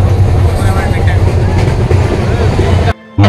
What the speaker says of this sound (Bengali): আমার ট্রেন যাচ্ছে।